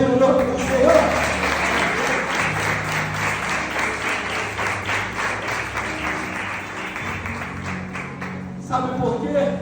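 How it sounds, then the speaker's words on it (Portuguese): Church congregation applauding during a sermon, loud sustained clapping with a rhythmic pulse from many hands, close and full, with voices mixed in and a brief swell near the end. "Você pode aplaudir o nome do Senhor?"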